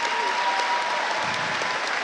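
A crowd at a Canterbury Rams basketball game applauds for Bruce in steady, sustained clapping that fills the arena evenly from start to finish, with no talk over it.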